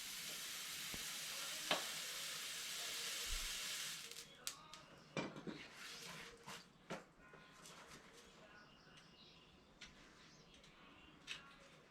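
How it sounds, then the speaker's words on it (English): A hot horseshoe is burned onto the hoof of a horse that has had laminitis, giving a few seconds of loud, steady sizzling hiss, then several sharp metallic knocks and clinks close by. "Alright, let's get our shoe burned on here."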